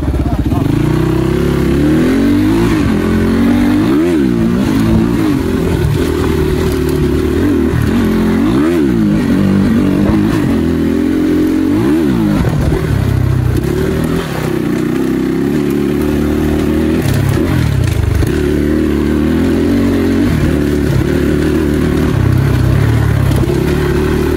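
A motorbike engine revs hard again and again close to the microphone, rising and falling in loud surges over a steady running drone, with voices faintly beneath.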